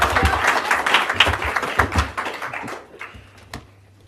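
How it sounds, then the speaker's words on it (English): Applause from an event audience, a loud burst of many clapping hands that thins out into a few scattered claps and fades away. "Somebody applauds."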